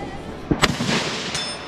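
Gunshots at a shooting training complex: two sharp close reports in quick succession, then a fainter single shot a moment later, over a low outdoor background with no talk.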